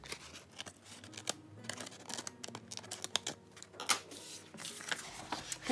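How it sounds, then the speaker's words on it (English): Scissors cut away excess paper on a decorated junk journal envelope, giving a run of close, quiet snips and crisp paper rustles in an irregular rhythm. "Now I'm going to cut away the excess here."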